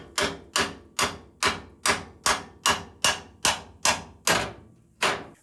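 A hammer strikes a chisel against a steel trailer cross member in an even rhythm, about a dozen loud, close metallic blows spaced roughly half a second apart.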